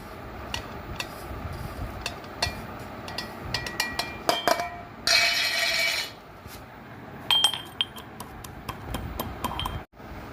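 Fried cumin and five-spice seeds are ground into powder with scattered clinks and taps, a harsh rasping burst midway, then more light clatter, all close and moderately quiet.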